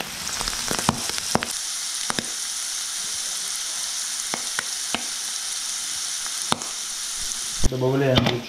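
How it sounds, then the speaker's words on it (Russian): Chopped boiled mushrooms fry in a pan with a steady, loud sizzle, punctuated by occasional sharp clinks from stirring, before a brief shift in the sizzle at the very end. "Вот наши грибы готовы, я их пошинковал немножко и будем жарить."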